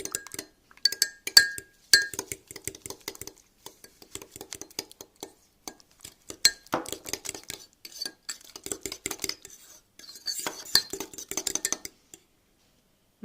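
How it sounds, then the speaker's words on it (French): Fork clinking against a bowl while two cracked eggs are beaten together with sugar for an apple tart, a brisk series of light metallic taps and scrapes, close and clear, with short pauses between bursts. "on les bat directement avec la fourchette"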